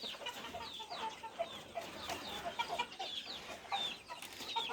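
Chickens at a poultry farm in Chitwan, Nepal, clucking steadily in a dense, continuous flock chorus with overlapping calls, moderately distant and no talk over it.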